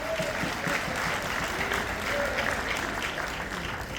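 An audience at a spiritual gathering claps steadily, a dense even wash of many hands, with a voice faintly audible beneath it.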